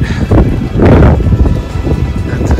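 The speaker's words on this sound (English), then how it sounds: "It's real windy, we're gonna go eat." Gusty wind buffets the microphone in low rumbling bursts on a sailboat, with faint voices mixed in underneath.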